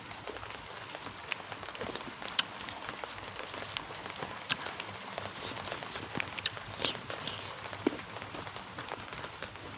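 Large raindrops fall outdoors in a steady dense patter of scattered sharp taps, moderately close, with little talk.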